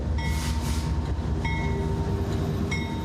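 Train rushing along a railroad that runs through the middle of a small town in La Grange, Kentucky, a steady loud rumble and rolling rail noise filling the whole clip with no pauses.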